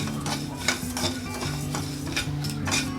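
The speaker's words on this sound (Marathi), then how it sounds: "हे आता धणे आणि जिरं 2 मिनिटं आपण परतून घेतलेलं आहे" Coriander and cumin seeds dry-roasting in a pan for chakli flour, stirred with a spoon that scrapes and rattles in quick repeated strokes over a faint sizzle, close by and with no talking.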